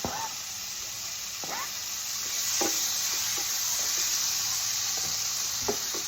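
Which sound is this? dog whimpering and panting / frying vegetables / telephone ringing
frying vegetables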